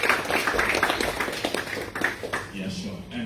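An audience at the Young Engineers Summit 2023 claps together, a dense, steady patter of many hands that carries on throughout under a voice speaking nearby.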